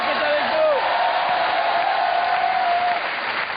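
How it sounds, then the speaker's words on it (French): A French TV studio audience applauds a guest, a steady, dense wash of clapping from a crowd, with a voice or whistle-like tone riding over it partway through. "le monde d'applaudir Arthur qui est avec"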